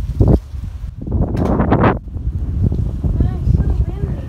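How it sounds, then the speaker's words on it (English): Wind gusts outdoors beside a car on a windy day in the UK, buffeting the microphone with a loud rushing swell in the middle, under and between bits of close talking. "Yeah, pretty windy, of course,"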